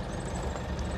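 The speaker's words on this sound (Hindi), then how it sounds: "लेकिन रेस करो गाड़ी, रेस करो, रेस हो रहा है" A Tata 407 SFC BS4 pickup truck engine, under fault diagnosis, runs loud and close with a steady dense rumble that swells slightly as it is revved, with no talk over it.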